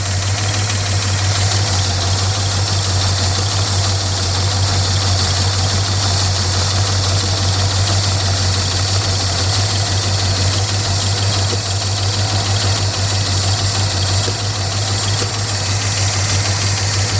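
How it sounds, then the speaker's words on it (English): 1967 Lincoln Continental engine, neglected and sitting for 29 years, idling continuously with a strong low rumble and a steady knocking vibration, close and loud throughout. "Will it idle?"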